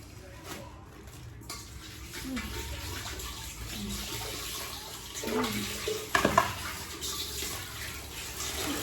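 Prawns being washed under running tap water at a kitchen sink, a steady splashing flow with a few louder bursts of handling partway through, close by with faint background voices.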